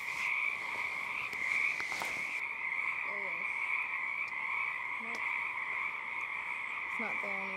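A western toad calling outdoors on the coast of British Columbia, a few short croaks at intervals over a loud, steady insect-like or stream background drone.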